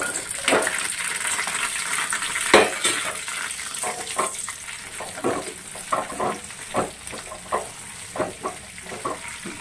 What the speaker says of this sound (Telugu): నూనె కాగింది ఫ్రెండ్స్. పచ్చిమిరపకాయలు వేసుకుందాం.